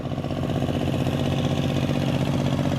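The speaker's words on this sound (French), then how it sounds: "le son des moteurs de longue taille, des longues queues, comme ils appellent ça" Long-tail boat engines in Thailand drone continuously at a steady idle, a low throbbing mechanical rumble that stays even and unbroken with no voices over it.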